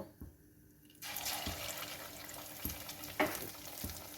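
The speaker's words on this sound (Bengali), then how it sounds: "এবার একে একে আমি লোটে মাছের পকোড়া ছেড়ে দেব।" Bombay duck (lote fish) pakoras dropped into hot mustard oil in a wok, a quiet start then a steady loud sizzle and bubbling frying, with a few soft clinks and stirring sounds over it.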